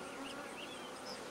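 Honey bees hum in a dense, continuous drone around a large hive colony. The buzzing is steady and fairly faint, with no voices over it.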